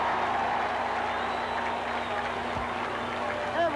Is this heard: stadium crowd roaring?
yes